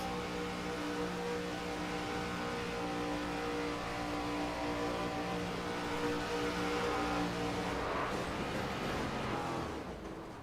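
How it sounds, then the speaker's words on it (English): Engines of race cars roar steadily at Talladega in a racing video game, a loud sustained drone that swells into a rougher, noisier burst near the end as a wreck unfolds, then fades slightly. "That's one of them wrecks, folks."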